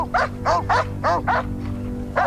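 A pet dog barks rapidly, about seven short yapping barks in quick succession, loud and close, over a low background hum.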